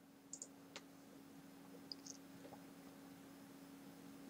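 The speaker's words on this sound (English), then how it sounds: "click the publish button" A single mouse click registers as a faint, sharp tick against a steady electrical hum, with a few other soft clicks scattered around it in a quiet room.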